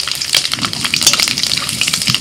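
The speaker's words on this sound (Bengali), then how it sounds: "তেলের মধ্যে ফোড়নে দিচ্ছি তেজপাতা, শুকনো লঙ্কা" Bay leaves and dried red chillies crackle and spit in hot oil for tempering, a dense, close, loud sputtering sizzle that holds steady throughout with no talk.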